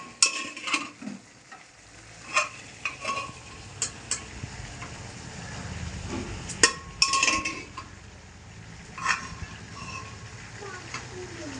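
Chickpeas fry with a spice mix while a spoon stirs them, giving a soft sizzle with irregular clinks and scrapes of metal on the pan.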